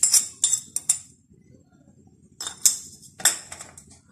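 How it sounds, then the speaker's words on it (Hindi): A masher working boiled potatoes mixed with salt, crushed red chilli and cumin in a bowl makes quick bursts of metallic clinks and knocks, close by, separated by a quiet pause, with no one speaking. "मैशर से इसको बहुत अच्छी तरह से मैश कर लेंगे"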